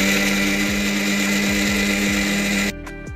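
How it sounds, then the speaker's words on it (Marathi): A kitchen mixer grinder blending chikoo with sugar and milk whirs loudly and steadily at close range with a strong motor hum, then cuts off abruptly near the end, leaving a brief quieter tail. "आता मिक्सरला आपण फिरवून घ्यायचं आहे"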